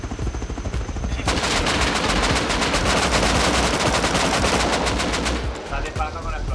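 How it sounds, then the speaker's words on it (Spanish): Dense, rapid automatic gunfire with explosive ammunition in the survival game Rust, loud and sustained for several seconds with crackling bursts and brief pauses near the end. "Está disparando con explosiva."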